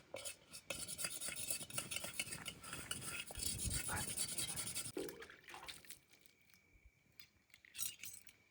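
Cooking utensils and cutlery are scrubbed and rinsed outdoors on the Rajgad–Torna range trek, with steady rubbing, scraping and metallic clinks that are close and busy for about five seconds, then thin out to sparse taps.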